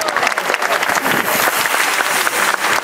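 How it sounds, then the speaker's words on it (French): Roadside spectators clap steadily as a 140-rider cycling peloton passes at a village start of a Tour de Bretagne stage, dense and close applause filling the scene with a few faint voices mixed in. "on applaudit les coureurs du peloton qui passent devant nous maintenant"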